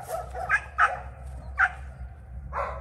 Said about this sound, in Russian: Один из охотничьих наших собак.